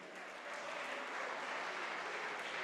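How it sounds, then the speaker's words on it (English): Audience applause greets the national teams at the opening ceremony of the WSF Under-23 World Squash Championship, a steady wash of clapping from a crowd that holds evenly throughout, moderately distant, with no talk over it. "Can we have a big round of applause for all the teams I'm mentioning"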